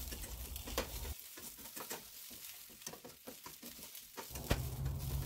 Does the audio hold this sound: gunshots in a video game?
no